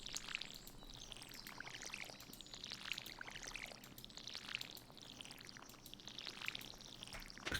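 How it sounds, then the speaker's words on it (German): Crops being watered in the farming game Stardew Valley: a soft, steady pouring and trickling of water that recurs in short splashing bursts against light ambient background, with no talk. "Und jetzt das Gießen."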